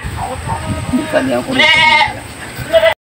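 A very large goat on a farm gives a loud, drawn-out bleat close to the microphone, with people talking and other noise around it.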